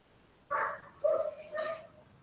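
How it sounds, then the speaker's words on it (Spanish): A neighbour's dog barks somewhere off in the distance, three short yappy barks spaced roughly half a second apart, faint and heard alone in an otherwise quiet room. "Hay un perro por ahí, nos quiere preguntar algo."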